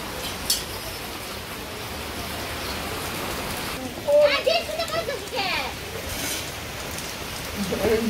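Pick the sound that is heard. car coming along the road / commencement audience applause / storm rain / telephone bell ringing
storm rain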